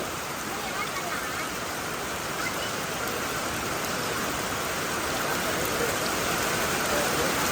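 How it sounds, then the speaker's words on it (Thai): Steady, dense rainfall with a constant hiss that holds level throughout, with no break in the downpour. "มาพอติดฝนแล้วบัดนี้"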